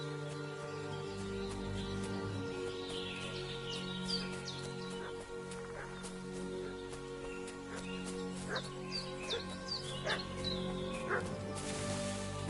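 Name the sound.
dog barking in the video game Kingdom Come: Deliverance II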